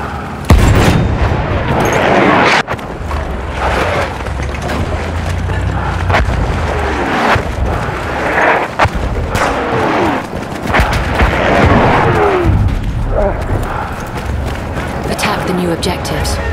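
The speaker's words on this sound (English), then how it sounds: "Wait for the enemy artillery barrage to stop firing." An enemy artillery barrage in Battlefield 1 Rush multiplayer sends dense, continuous booming explosions and crackling gunfire. The fire stays loud and close throughout, with sharp impacts standing out.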